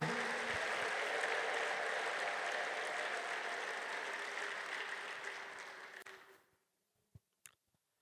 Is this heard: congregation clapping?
yes